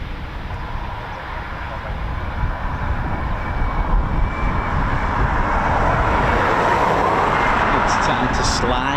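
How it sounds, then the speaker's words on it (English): A Vans RV-7 aerobatic aircraft flies overhead at an air station, its engine a broad, rising roar that grows louder and fuller across the passage. "So this is a Vans RB7, a very capable aerobatic aircraft"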